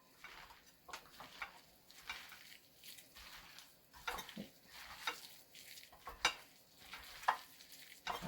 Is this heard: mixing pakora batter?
yes